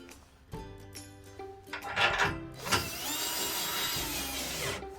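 A power drill on low speed tightens long bolts into a metal folding table frame, giving short whirring bursts and a longer buzzing run, with metallic clicks and knocks between, close and fairly quiet.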